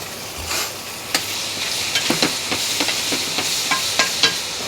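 Shrimp with a little turmeric frying in a pan, a soft hiss broken by scattered spatters and stirring taps, close and fairly loud, no talking.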